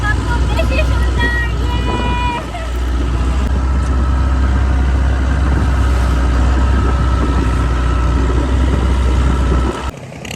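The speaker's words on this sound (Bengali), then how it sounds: "আর লং টেল বোটে করে আমরা এখন 5টা বিচে যাব" A long-tail boat engine drones steadily on open water, a loud low rumble that runs almost the whole time, dipping briefly near the start and cutting off at the end.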